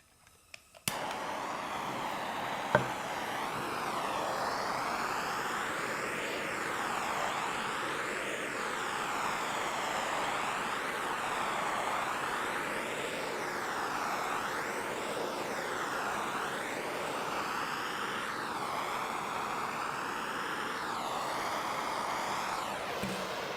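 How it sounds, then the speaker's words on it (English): A propane torch roars steadily against a piece of wood, a continuous close rushing flame with a slowly wavering tone, after a brief click at the start. "taking a piece of wood, treating it with a propane torch, and adding color to it"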